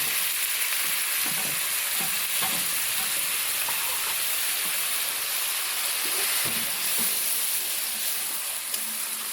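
Grated carrot fries in hot ghee with cardamom in a kadai for carrot halwa, producing a steady, close, hissing sizzle with light scraping stirs and no talk.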